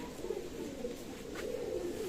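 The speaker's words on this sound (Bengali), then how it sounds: "স্টাইলিশ গেটআপের কবুতর, চীনা টেডি কবুতর।" Chinese Teddy pigeons coo in a low, continuous murmur of overlapping calls, close and fairly quiet with no talking.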